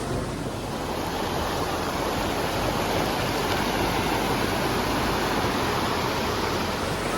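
A cold mountain stream rushes steadily through an Alpine canyon near Oberstdorf, Germany, a loud, continuous broadband roar of water heard up close with no voices.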